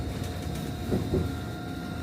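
Steady low rumble of a moving JR local train carriage in Japan heading to Furano, with a faint constant hum and a soft thump or two, no voices.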